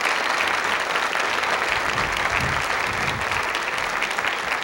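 A 1961 television studio audience on Ernie Kovacs' panel game show breaks into sustained, dense applause, loud and even throughout with no break.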